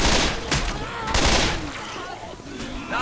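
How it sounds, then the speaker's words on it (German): Rapid bursts of gunfire blasting out a window in the zombie shooter Left 4 Dead 2, loud and close, with several sharp volleys overlapping a steady roar of game noise. "Hier das Fenster kaputt schießen"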